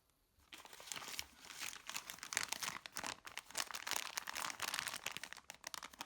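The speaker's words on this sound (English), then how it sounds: "I put the wrapped ginger in the plastic bag, squeeze the air out and close it tightly." Plastic bag crinkling and rustling steadily for several seconds, close up, with irregular bursts as it is handled, the air squeezed out and pressed shut around wrapped ginger.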